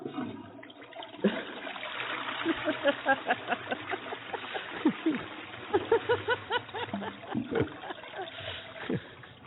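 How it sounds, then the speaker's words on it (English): Running water gurgles and bubbles as it drains, a steady stream of burbling pulses lasting several seconds, heard fairly close. "The sound of running water."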